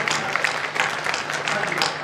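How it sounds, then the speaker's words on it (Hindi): An audience claps at a Hindi public address, a dense wash of hand claps that holds steady throughout and mixes with a little background voice. "एक बार तालियां बजाकर मुझे सुना"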